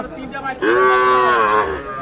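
A single long, loud moo from a calf or young cattle at a village cattle market in Aftabganj, rising sharply and holding for about a second before fading, with faint market noise behind.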